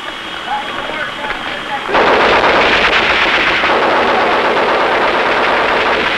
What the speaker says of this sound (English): Who's firing this machine gun?